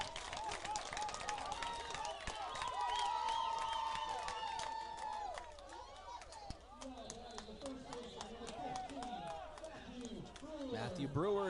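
A large high school baseball crowd roars and cheers after an RBI double that ties the game at 6 in a South Dakota super regional, with sustained loud, dense crowd noise that gradually settles, under a commentator's voice.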